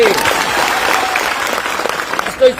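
School students applaud at a school gathering, a dense and steady round of clapping that holds throughout, with a brief voice cutting in at the very end.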